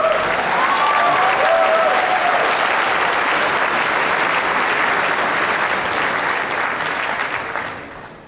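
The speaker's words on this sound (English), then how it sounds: "didn't expect that to get an applause." An audience at a PAX East 2011 game panel bursts into applause, a loud, dense clapping that holds steady for several seconds and then fades out near the end.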